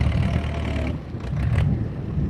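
Ford farm tractor engine running in a field, a steady low rumbling drone with a brief dip in level midway, close by and with no talk over it.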